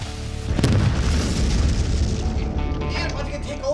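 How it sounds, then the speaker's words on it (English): A barrel of explosives detonates in one loud, deep boom that rolls into a long rumbling decay lasting several seconds. "That was the best explosion we've ever done."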